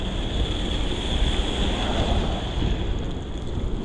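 Steady wind roars across the microphone during a rainy morning ride on a Gazelle Arroyo C8 HMB Elite e-bike, a loud, constant rushing hiss throughout.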